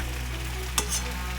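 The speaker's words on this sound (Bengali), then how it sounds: "এটা এবার একটু ঝুরঝুরে করার জন্য অল্প আঁচে জলটা মেরে দেওয়ার জন্য নেড়ে চেড়ে করে নেব।" Dalia fried rice stirred over low heat in a pan, a soft steady sizzle over a low hum with one quick scrape of the spoon near the middle, brief and with no voices.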